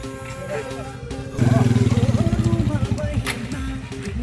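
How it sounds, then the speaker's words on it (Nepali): A motorcycle ridden by boys on a rough road revs in a loud, throbbing burst partway through, then eases back under faint background sounds. "केटाहरूले बाइकै तानेर कुदाइरहेछ"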